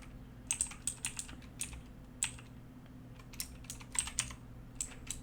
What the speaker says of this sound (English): this way I can start typing in my command